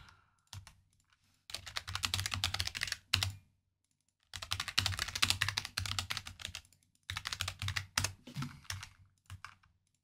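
Rapid bursts of clattering keystrokes on a computer keyboard while a chat message is typed during a game, in three long runs separated by brief pauses, close and clear with no talk.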